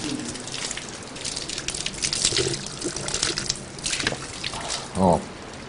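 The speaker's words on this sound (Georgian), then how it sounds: "ბორჯომის მჟავე წყალი არის ეს." Warm, sour Borjomi mineral water flows steadily from a spring tap, a continuous broadband gush with a few louder splashes, while voices murmur nearby.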